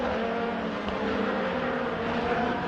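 Rallycross race cars roar around a circuit with a dense, continuous engine drone, loud and close throughout, without voices.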